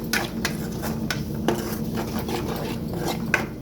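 A spoon stirs and scrapes through turmeric, chili powder, chicken masala and coriander powder in a cooking pan. The strokes are steady and repeated, with a soft metallic rasp and the occasional clink, and no talk over them.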